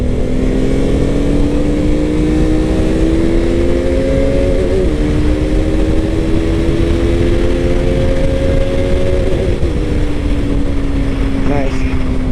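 A KTM RC 200 motorcycle pulling hard in third gear on a straight road, its engine note climbing steadily and loudly with wind rush throughout.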